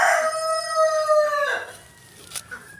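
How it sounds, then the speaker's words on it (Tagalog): A rooster crows once, loud and close, a long harmonic call lasting over a second before trailing off into quiet farmyard background. "Tulaok na, sayo na manok."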